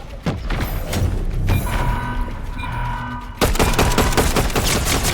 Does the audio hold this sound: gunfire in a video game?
yes